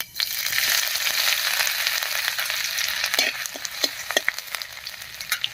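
Nigella seeds and chopped ginger frying in hot mustard oil in a kadai, a steady close sizzle with sharp pops and crackles growing toward the end.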